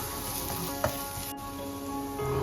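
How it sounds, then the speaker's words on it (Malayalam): Prawn pepper roast masala sautéing in a pan with a pinch of turmeric, a soft steady sizzle heard close and fairly faint, with a single light scrape of stirring and no talking. "അത് വഴണ്ടിയതിന് ശേഷം ലേശം മഞ്ഞൾപ്പൊടി ഇടുക. അതിനുശേഷം ഒന്ന് വഴറ്റുക."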